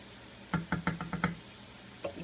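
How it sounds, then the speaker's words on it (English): A spoon stirring boiling mulligatawny soup with chicken and rice knocks against the pot in a quick run of six clear taps, then one more after a pause, over a faint simmer. "stir that goodness around"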